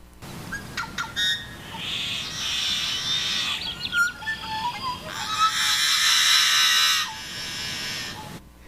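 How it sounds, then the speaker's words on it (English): Yellow-headed blackbird in the Sierra Nevada mountains giving several harsh, buzzy, rasping calls with short clicks and chips between them, close and clear against faint outdoor ambience. "like this yellow-headed blackbird."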